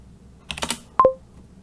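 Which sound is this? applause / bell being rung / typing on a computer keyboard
typing on a computer keyboard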